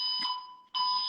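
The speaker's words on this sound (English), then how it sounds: "That is my fire alarm." A false fire alarm sounds in an apartment, a loud, steady electronic tone that cuts out briefly near the end before blaring again.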